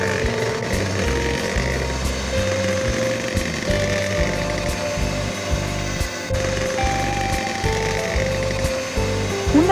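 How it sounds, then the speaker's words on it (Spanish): Electric mixer whipping egg whites with a pinch of salt toward stiff peaks for a homemade sponge cake, a steady loud motor drone with rhythmic pulsing from the beaters, continuous and close, no voices. "Vamos a batir hasta que queden a punto de nieve."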